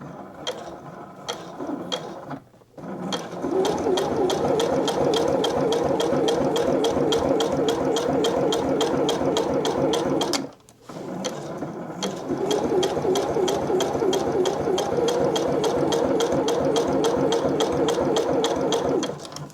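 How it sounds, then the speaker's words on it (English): A Juki sewing machine stitches through jeans in long, steady, rapid mechanical bursts, loud and close, with brief pauses where the needle stops before resuming at full speed. "Okay, so I'm going to talk about my sewing machine"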